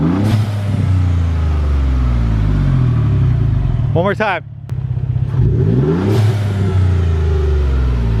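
A Ford F-150 EcoBoost with an aftermarket exhaust revs hard twice, loud and close, with the engine note climbing and falling between blips while someone speaks briefly.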